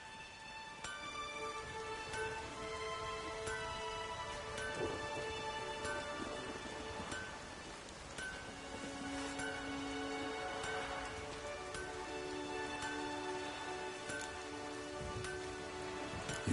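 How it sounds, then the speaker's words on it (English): A storm in The Witcher 3 game: steady rain with rolling thunder, distant rumbles swelling and fading across the stretch, faint and continuous, with no talk. "Something's got to be done. About the storm. With waves like that, we can't fish, nor sail out to raid."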